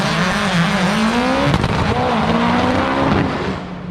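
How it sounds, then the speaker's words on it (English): A Subaru at a drag strip slides with its tires squealing, a loud sustained engine roar and rising tire screech that fades slightly at the end, with no talk. "Subaru's getting a little squirrely out there"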